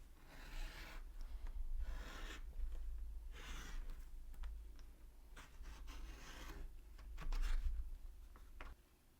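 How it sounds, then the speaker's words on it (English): Scissors cut a paper circle out of card for a scrapbooking layout, giving soft, close rasping snips and rubbing in uneven bursts, quiet and without speech. "I'm just going to cut this right out"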